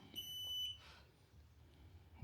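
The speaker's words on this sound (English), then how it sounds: "So you can go beep, short press the power button of the scooter." An NIU KQi300P electric scooter gives a single short, clear electronic beep when its power button is pressed. A faint handling clatter follows in a quiet room.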